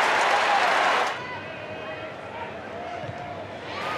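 Loud crowd roar at an Adelaide Crows football match for the first second, fading to a quieter stadium murmur beneath commentary.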